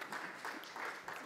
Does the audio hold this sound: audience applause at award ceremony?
yes